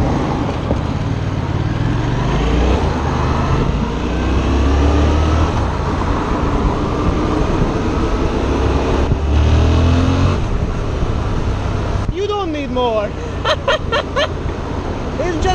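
Yamaha FZ-07 motorcycle engine accelerating on a Los Angeles ride, loud revving with rising pitch and heavy wind rush, the rider talking over the roar.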